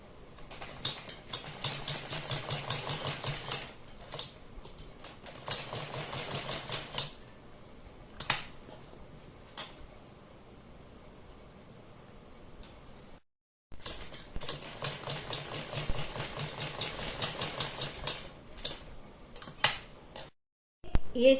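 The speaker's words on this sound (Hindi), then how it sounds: "बिल्कुल पाइपिंग के और कपड़े के बीच में हमें सिलाई लगानी है।" A sewing machine stitches black cord piping onto a fabric boat neckline, running in fast rattling bursts: a long run, short pauses and single stitches, then silence and a second long run ending in brief stops and starts.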